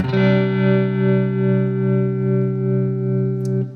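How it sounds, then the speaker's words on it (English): Electric guitar through a Chase Bliss Audio Wombtone MKII pedal set to a tremolo-like modulation: a single sustained chord pulses in a steady, regular volume wobble before being cut off. "if I hit the bounce switch, it's going to modulate like a tremolo"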